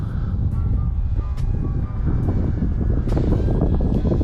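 Wind blowing across an outdoor field where an E-flite T-28 Trojan RC plane is flying, a loud, steady rumbling buffet against the microphone with faint tonal hums drifting through.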